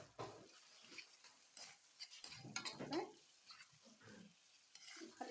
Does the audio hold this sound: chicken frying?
yes